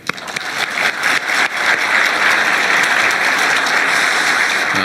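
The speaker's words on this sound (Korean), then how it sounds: "박수로도 한번" An audience at a regional high-tech industry briefing breaks into loud, sustained applause, the clapping swelling quickly after a few opening claps and holding as a dense, even roar.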